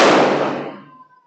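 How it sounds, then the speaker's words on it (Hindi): Firecrackers bursting outdoors: a single loud burst that decays over about a second, with a faint ringing tone trailing off alone. "पटाखों की आवाज है"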